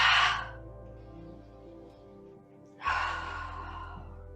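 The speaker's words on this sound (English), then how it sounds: "Inhaling deeply and exhale through the mouth." During a yoga class, a deep breath is drawn and then released through the mouth, two soft breathy gusts separated by a quiet pause over low background music.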